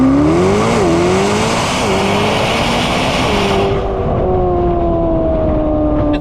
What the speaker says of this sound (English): The Corvette ZR1X does 0 to 60 in under 2 seconds